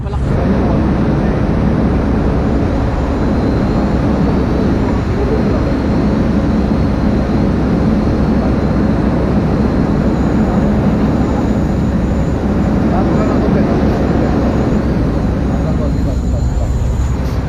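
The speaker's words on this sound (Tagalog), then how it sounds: "Mabigat na drone yan." A loud, steady droning hum from a heavy drone fills the whole stretch, constant and close, with faint voices beneath it.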